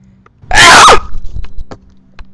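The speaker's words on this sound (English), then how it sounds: "That was a sneeze." A single loud, forceful sneeze bursts out up close in a quiet room, about half a second long, followed by faint breathing and small rustles, with no talking.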